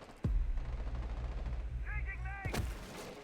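A Claymore mine detonating in a competitive video game match, one sharp loud blast near the start with a rumbling tail, followed by another sharp crack later as a commentator talks over it.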